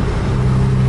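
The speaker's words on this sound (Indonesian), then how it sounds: "Ini Armada Indah, bus Armada Indah." An Armada Indah bus with a Mercedes-Benz engine rumbles close by with a deep, steady drone, loud and unbroken for a moment.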